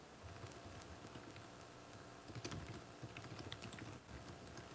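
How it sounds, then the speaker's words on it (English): Someone types on a computer keyboard in a steady, faint patter of key clicks, with a few slightly louder bursts midway and no voices. "We can hear you typing."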